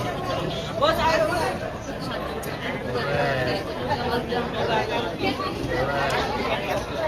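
Dense crowd chatter on a crowded railway platform at Sangameshwar, a steady babble of many overlapping voices with no single speaker standing out, continuous throughout.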